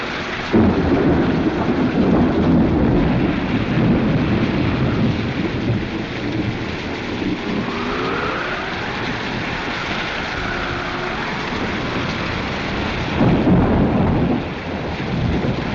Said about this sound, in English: He says it's impossible, sir. It's too dangerous in the storm.